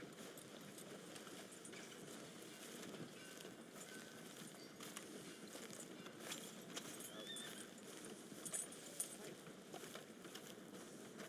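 Horse hooves clip-clop at an even walking pace in the video game Red Dead Redemption 2, with a faint whinny over steady ambient game sound and no voices.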